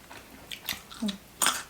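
Someone chews crispy battered fried shrimp, giving a few brief, close crunches spaced irregularly over under two seconds.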